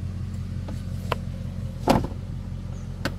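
The vacuum soft-close door of a 2008 Audi A8 4.2 Quattro (D3) pulls itself shut, giving a short muffled thump near the middle over a low idling hum, with a few faint clicks before and after.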